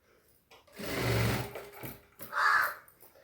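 A sewing machine stitches piping onto a blouse in two close, loud runs, a longer whirring burst followed by a shorter one, with no talking.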